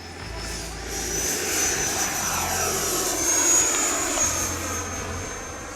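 A small RC jet takes off at half throttle, its steady high whine and rushing roar sustained and fairly close, with a faint voice underneath.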